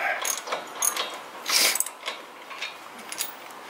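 Ratchet wrench loosening brake caliper bolts on a car during a rotor and brake replacement, a series of short clicking bursts with one louder, longer run of clicks in the middle, close and alone.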